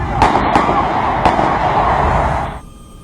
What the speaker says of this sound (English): Their panic explained by the sound of gunshots.